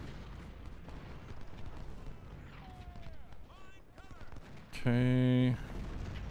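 Artillery fire in the Civil War strategy game Ultimate General: Civil War, a low continuous rumble of distant cannon and musketry under someone speaking briefly, with a loud horn-like tone near the end.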